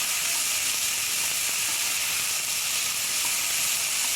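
Capsicum sautéing with onion in a pan for a cheese corn sandwich, giving a steady, close hiss and sizzle that runs evenly throughout with no talk.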